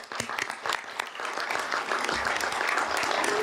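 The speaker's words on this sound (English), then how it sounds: "So let's give them a round of applause." Audience applause for student artists who brought home awards, filling a school board of education meeting with steady, dense clapping from a crowd.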